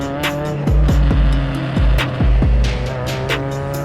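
Race cars start race 2 at Barber with a loud, close engine roar. Repeated sharp upshifts and downward revving sweeps run through it, along with tire noise, and no voices.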